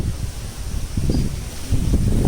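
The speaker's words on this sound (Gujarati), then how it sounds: "અને આજ મસ્ત પવન છે," Wind gusts rush and rustle through a waterlogged home garden, with a steady low roar that rises and falls in uneven bursts, and no voices.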